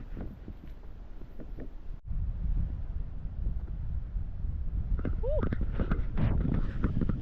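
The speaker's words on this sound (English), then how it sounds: "it's very breezy and it's cold breeze" Cold wind gusts across a forest boardwalk near the beach in Tofino, roaring steadily and buffeting the microphone, with faint footsteps and a brief high squeak within the rush.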